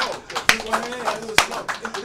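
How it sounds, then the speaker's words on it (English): Slow, spaced claps from an audience, two sharp loud hits about a second apart, mixed with ongoing chatter and talk at an album release gathering. "Y'all nigga slow clapping?"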